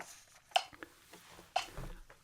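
A metronome set to 60 BPM clicks faintly and sharply about once per second, two clicks heard over a quiet background.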